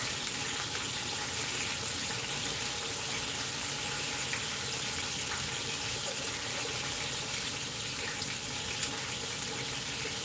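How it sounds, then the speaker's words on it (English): Hands are washed under a running kitchen tap during pot roast preparation, a steady, even hiss of flowing water that continues unbroken throughout. "I'm going to just wash my hands, turn it over."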